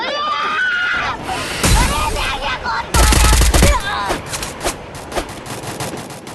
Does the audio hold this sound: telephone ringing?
no